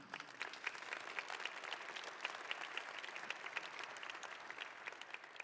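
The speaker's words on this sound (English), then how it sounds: "You should give them all a very big applause to this amazing team." An audience gives sustained applause for a festival team, steady dense clapping that holds at an even, fairly soft level throughout without talk.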